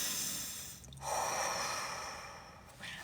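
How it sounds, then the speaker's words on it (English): One deep breath taken close and quietly in a calm guided session: a soft inhale, then a longer airy exhale, ending with a slight sniff. "One breath together."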